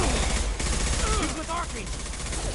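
Mass Effect gunfire crackles in dense, overlapping bursts throughout, mixed with game effects and voices talking over the shooting.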